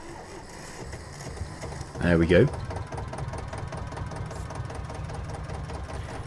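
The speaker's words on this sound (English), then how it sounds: "let's start this beautiful engine" A vehicle engine in Farming Simulator 22, at minus two degrees, cranks and catches in a brief loud burst, then settles into a steady, rattling idle; someone speaks briefly over it.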